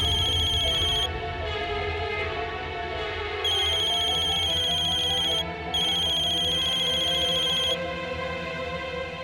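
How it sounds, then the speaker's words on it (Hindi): A mobile phone ringing with an incoming call, its electronic ringtone repeating in bursts with short gaps, loud and close over a noisy indoor background in a Hindi TV drama scene. "पल्लवी चाची का फोन"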